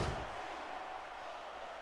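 A wrestling arena crowd in the video game WWE Smackdown vs Raw 2006 roars as a broad, steady wash of cheering noise, with a brief louder burst at the start before settling into a sustained din.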